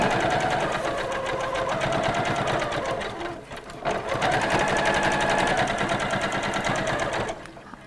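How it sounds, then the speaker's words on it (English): A sewing machine stitches a garden apron, a loud, fast, close mechanical chatter that briefly slows and pauses midway before resuming at full speed. "I'm gonna begin sewing"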